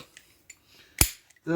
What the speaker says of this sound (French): Un coup de serrage là-dessus. Au couple préconisé. Clic, clic.